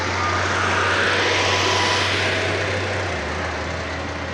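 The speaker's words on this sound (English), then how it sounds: "you can see there's a helicopter there actually going into the heliport" A helicopter flies into a heliport near the Las Vegas welcome sign, a loud, steady engine and rotor roar with a low droning throb that eases slightly toward the end, no talking.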